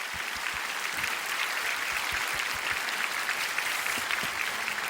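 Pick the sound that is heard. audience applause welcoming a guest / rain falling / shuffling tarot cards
audience applause welcoming a guest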